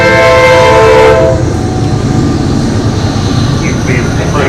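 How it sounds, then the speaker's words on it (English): A train rumbles loudly through a town, its horn sounding clearly at the start before giving way to a steady, heavy roll of rail cars that fills the room. "When the train comes through, I can't hear it."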